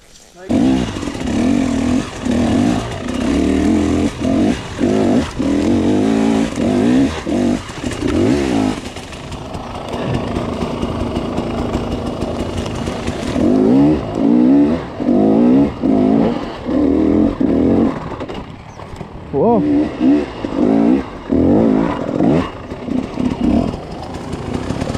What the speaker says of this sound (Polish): Motor wjechał.